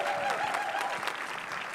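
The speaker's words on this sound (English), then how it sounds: "Can we get a big round of applause for Stephanie, who did an awesome job?" Audience applause at a Burlington Democratic Party caucus, a brief round of clapping from a room of people, fairly faint and steady, with a voice briefly heard at the start.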